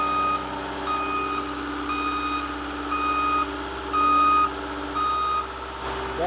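A skid steer backs up with its reversing alarm beeping in a steady, evenly spaced rhythm over a continuous engine drone, close and fairly loud outdoors.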